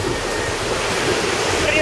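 Ocean surf on an empty, untouched beach in Morocco, heard as a broad, steady wash of breaking waves mixed with wind noise, continuous and fairly loud with no talk.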